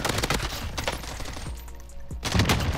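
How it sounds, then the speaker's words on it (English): Automatic gunfire in the shooter game Warzone, with rapid bursts of shots and sharp single cracks close by, loud and continuous across the moment. "I'm under fire."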